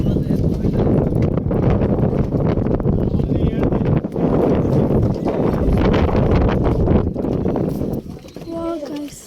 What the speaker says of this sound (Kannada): Speed boat.